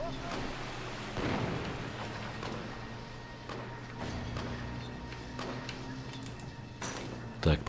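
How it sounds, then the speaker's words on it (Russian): Deep booming explosions rumble at intervals amid a noisy din of crackles and bursts in the video game State of Decay, with a sharp blast near the end. "Там уже слышны взрывы."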